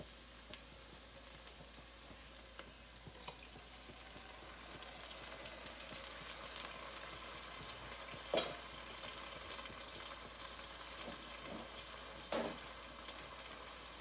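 Diced green peppers and onions fry in a pan, giving a steady sizzle with occasional stirring scrapes and clicks, close and moderately loud, with no talking.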